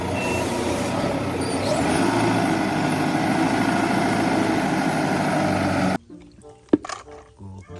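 A toy forklift's electronic engine sound plays loud and steady for about six seconds as a rumbling truck-like drone, then cuts off, leaving a few faint clicks and knocks.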